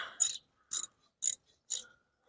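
A ratchet works on a rusty brake caliper bolt of a Dodge Dakota, giving four evenly spaced bursts of fast clicking, close up and loud, with silence between strokes.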